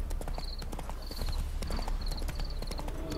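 Horse hooves clip-clop in a steady, close rhythm in The Witcher 3: Wild Hunt, with bright jingling accents repeating over the trotting; no distinct whinny stands out.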